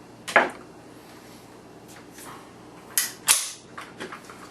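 An empty magazine is released from a Sig 522 rifle through its ambidextrous mag release, heard as a few sharp, close metallic clicks and clacks separated by short pauses, with no talking.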